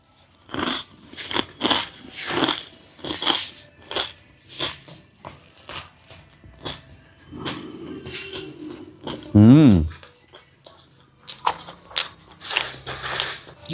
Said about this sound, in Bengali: প্রথমেই মুড়ি দিয়ে হবে আলুর চপ।